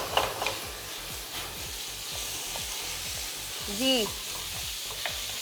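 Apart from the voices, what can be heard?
beef mince frying with sautéed garlic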